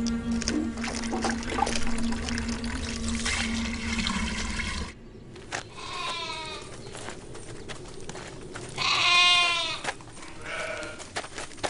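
Sheep bleating at a stone watering trough beside ruined Byzantine churches in northern Syria, several wavering calls, the loudest near the end, over a running-water noise that stops partway through.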